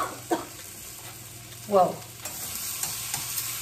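Onions and chilies sauté in a hot pan, a soft continuous sizzle with a couple of scraping stirs, while a person briefly exclaims nearby.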